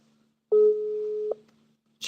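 A telephone ringback tone heard while placing a call: a single steady beep lasting under a second, clear and close, in near silence.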